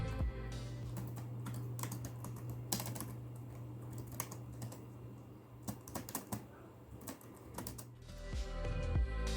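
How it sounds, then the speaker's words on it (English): Rapid clicking of an HP Compaq 6720s laptop keyboard being typed, steady and close, with short pauses and bursts, over a low hum. "The keyboard on this laptop is actually pretty good and it types well. This is how the keyboard sounds."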